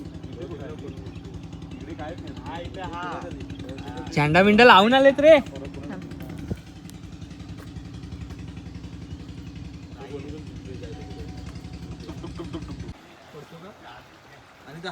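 A steady motor boat engine drones throughout, with a burst of voices partway through, before the engine noise cuts off near the end.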